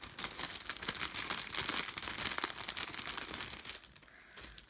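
A small plastic packet holding buttons is torn open with close, busy crinkling and rustling that runs steadily and eases off near the end.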